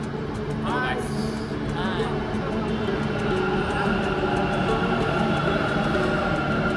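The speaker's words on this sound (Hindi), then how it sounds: "फाइनली मेट्रो आ चुका है।" A metro train rumbles steadily into a station during Holi with a loud, continuous roar and a brief high screech of brakes, while people talk nearby.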